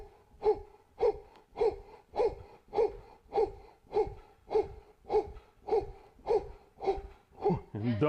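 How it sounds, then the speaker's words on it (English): Rapid, forceful rhythmic breaths in a power breathing exercise, about fourteen sharp puffs at an even pace of roughly two per second, loud and close, with no talk. "Okay, power breathing."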